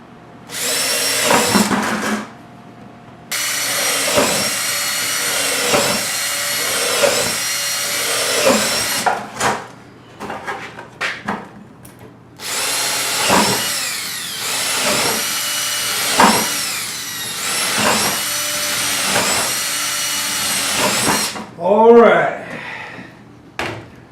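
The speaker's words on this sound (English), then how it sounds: "Maybe next time I'll drill all this before I screw it down." Bursts of a power drill whirring into wood, several long runs separated by short pauses, loud and close, ending with a brief clatter.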